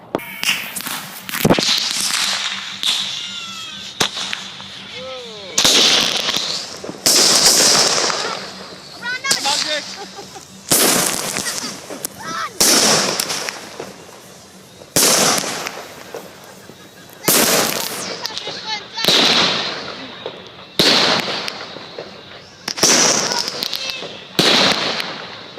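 A large New Year fireworks show with repeated loud bangs and crackling bursts, fired one after another at a steady pace across the whole stretch, with a few voices heard faintly between the blasts.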